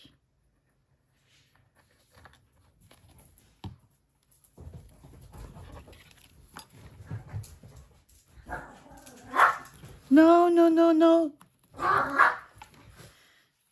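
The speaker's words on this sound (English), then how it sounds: "the dog was having its zoomy time." A dog in the middle of indoor zoomies pants and shuffles, then gives a couple of sharp, whiny barks near the end, while a person speaks briefly nearby.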